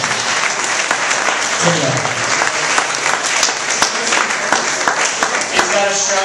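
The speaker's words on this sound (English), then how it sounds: "Everyone, put your hands together for Tim." Loud, dense audience applause at a comedy show, welcoming a comedian. Continuous clapping fills the whole stretch while voices talk over it near the end.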